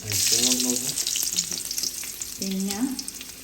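Finely chopped shallots fry in a hot pan with loud, close sizzling and crackling, stirred now and then.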